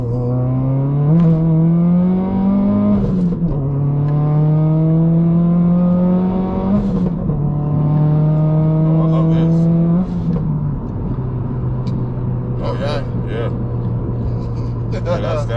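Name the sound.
Subaru WRX STI accelerating and downshifting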